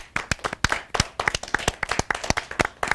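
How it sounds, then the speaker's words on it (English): An audience claps at a television talk show, a brisk run of loud, dense handclaps lasting a few seconds, with no talk over it. "Big round of applause."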